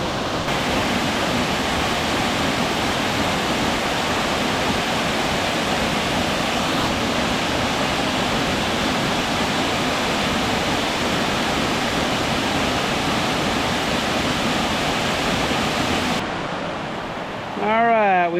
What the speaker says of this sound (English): we finally made it to Wild Burro Falls